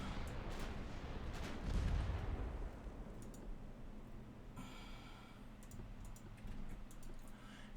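Naval gunfire in the Ultimate Admiral Dreadnoughts game: a heavy boom around two seconds, then scattered thuds and a rumbling low background with a later burst of mechanical noise, no talk.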